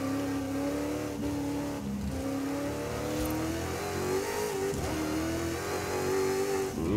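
A car engine in the racing game Forza Horizon 5 revs and drops through gear changes and braking for a corner, loud and continuous, with no voice over it.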